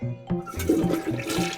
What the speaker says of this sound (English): You really flushed them.